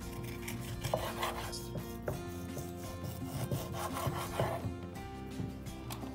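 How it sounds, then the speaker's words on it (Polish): Bacon being sliced very thin with a knife, a soft, steady rasping of back-and-forth strokes with small taps, quiet and close, with no voices. "Boczek kroję na bardzo cienkie plastry."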